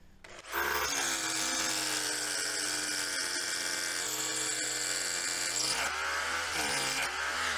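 A hammer drill fitted with a masonry bit bores through a piece of wood into a concrete block, a loud, steady whining grind that starts abruptly and runs nearly continuously, with a brief dip in pitch near the end.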